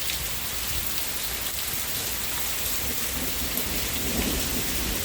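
A thunderstorm in Hochelaga, Montreal brings steady heavy rain drumming on nearby surfaces, with distant thunder rumbling low beneath the constant wash of drops, close and unbroken.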